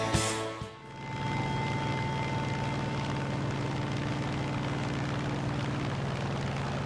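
A P-47 fighter's propeller engine in War Thunder drones in a steady, loud hum with a constant tone, following a brief burst at the start, with no talk.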